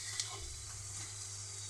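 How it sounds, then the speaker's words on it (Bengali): Onion puri frying in hot oil, a steady close sizzle and hiss lasting the whole time with a few soft bubbling pops. "আর এইদিকে পেঁয়াজ পুরি ভাজা বসিয়েছে।"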